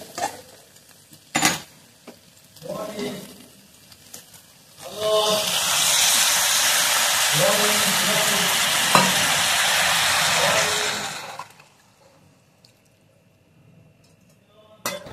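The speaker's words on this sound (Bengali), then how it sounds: "মশলাও কষানো হয়ে গেছে। এবার আমরা দিয়ে দেবো জল।" A few scrapes and taps in a pan of fried spice paste for a prawn, potato and taro curry, then water pours in with a loud, steady hiss and sizzle for several seconds before dying down to quiet clinks.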